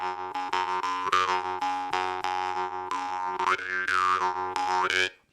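A jaw harp plays a continuous twanging drone with rapid rhythmic plucks and vowel-like overtone sweeps, close and fairly loud, no talking, ending abruptly.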